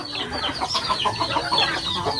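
A native hen, soon to be butchered, clucks in a quick series of sharp, close-up notes, fairly loud and with no talk over it.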